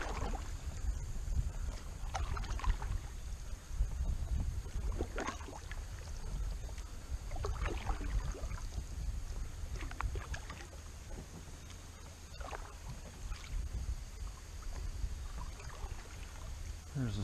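Kayak paddling on Prettyboy Reservoir in early autumn, soft rhythmic paddle strokes and water swishes repeating every couple of seconds over a low wind rumble, close and fairly quiet.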